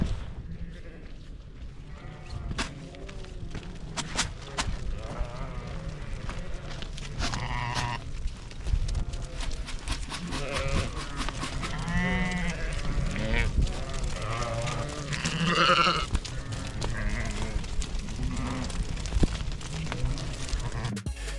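Sheep bleating repeatedly during pregnancy scanning on a farm in Germany, several animals calling close by in overlapping bursts over steady background noise, with occasional voices.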